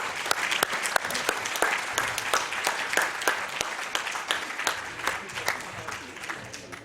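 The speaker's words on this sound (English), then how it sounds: "please give yourselves a huge round of applause for a fantastic day's work" An audience at a conference plenary session at a world education forum gives a sustained burst of applause, many hands clapping densely and steadily in a large room, with a voice briefly audible over it.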